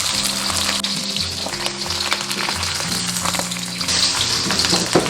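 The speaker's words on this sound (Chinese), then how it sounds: "加入银鲳鱼，中小火慢煎。" Steady, close sizzling of silver pomfret frying in hot oil over medium-low heat, a continuous crackling hiss that holds at an even loudness throughout with no talking.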